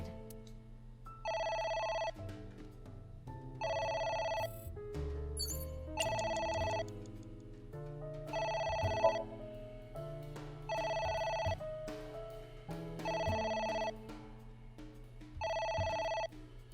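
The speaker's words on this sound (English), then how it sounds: "It won't stop ringing." A telephone rings repeatedly in the video game AI: The Somnium Files, with a regular pattern of ringing bursts every couple of seconds over steady background music.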